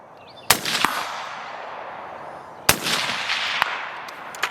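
Close, sharp rifle shots from a Lantac rifle during a rapid burn-down, heard as two loud cracks, each followed by a quick second shot and a long ringing tail, with no talk.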